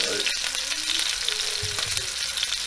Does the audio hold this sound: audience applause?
no